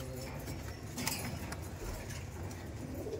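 Pigeons in a loft in Barrackpore give soft, low cooing, faint and continuous, with some light rustling from the birds.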